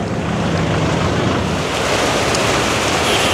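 Heavy rain pours down outdoors on a street in Parañaque, a loud, steady, dense roar of broadband noise with wind buffeting, continuous throughout and with no voices.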